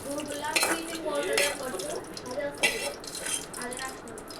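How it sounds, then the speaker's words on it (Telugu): Fried green chillies go into a stone mortar with several light clinks and scrapes, quiet and close, while someone talks softly. "పచ్చిమిర్చి బాగా వేగినాక ఇప్పుడైతే మనం రోట్లో అయితే వేసుకోబోతున్నాం."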